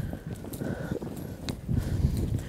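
A young colt being started under saddle, its hooves clip-clopping at a steady walk on the ground, moderately close, with a low rumble of movement and a faint snort mixed in.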